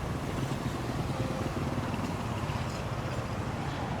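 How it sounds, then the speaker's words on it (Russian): Steady wind in Santo Domingo buffets the microphone in a continuous low rumble, with a faint rushing quality like open water nearby and no speech. "А какой ветер пошел у нас, а?"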